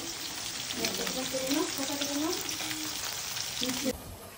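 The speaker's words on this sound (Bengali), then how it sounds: "আর এদিকে মা মাছ বসিয়ে দিয়েছে, ভাজা হচ্ছে।" Fish sizzles loudly in a frying pan with a continuous bright crackle. Faint voices sound in the background, and the frying drops off abruptly near the end.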